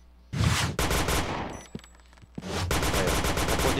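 Rapid bursts of automatic gunfire in a video game, loud and close, with a short lull of scattered single shots before another sustained volley.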